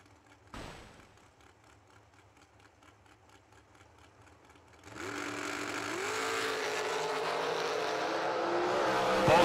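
Race cars leave the line on the green flag at a summer racing event, engines idling and burbling quietly before a sudden surge into loud rising revs that build steadily as the cars accelerate away, with no talking.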